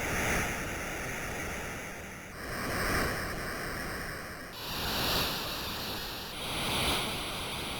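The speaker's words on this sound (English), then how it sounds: "So if I were to take this, I can make an ocean wave." Synthesized ocean waves from the inSIDious synth plugin, broad hissing surges that swell and recede in regular slow cycles about every two seconds, loud and alone with no talking.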